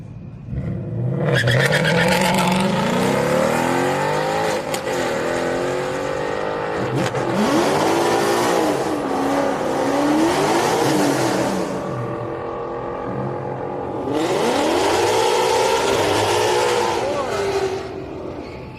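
A 5.0 Mustang at a Houston Raceway Park street night drag race revs hard in repeated loud rising surges, exhaust roaring close by between quieter idle gaps.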